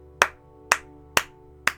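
Four sharp single hand claps, evenly spaced about half a second apart, close and distinct against a quiet background with a faint steady hum.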